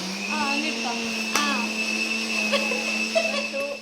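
A kitchen mixer grinder whirs with a steady, loud motor hum from start to finish, while voices talk over it.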